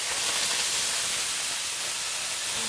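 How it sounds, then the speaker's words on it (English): Continuous loud sizzling hiss of hamburger meat frying in a very hot pan, steady and close with no talking. "you hear the pan is pretty hot, so it's sizzling"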